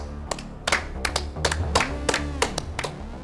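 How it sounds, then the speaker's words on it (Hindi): Nine or so loud hand claps land at an uneven pace over a low, droning musical background. "फंसी शेर के लिए तालियां भाई"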